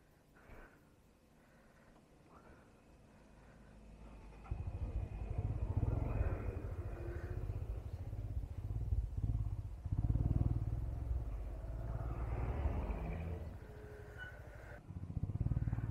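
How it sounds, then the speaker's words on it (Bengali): A motorcycle pulls away and rides off on a road between Besisahar and Raxaul in Nepal, its engine rumble building from faint to a steady, moderately loud drone with some clatter, without speech. "তো এবার আমরাও বেরোচ্ছি"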